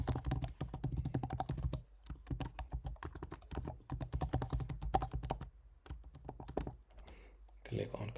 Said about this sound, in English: I will fill in my email address manually